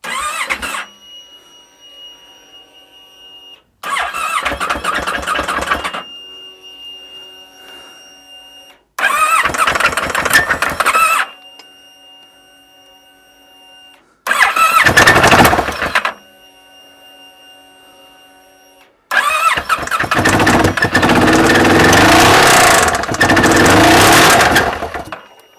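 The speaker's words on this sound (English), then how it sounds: "It's starting. It's actually starting." A streetfighter motorcycle under construction, with its exhaust just fitted, is cranked and fires in five loud bursts separated by silent pauses, the last catch running longest.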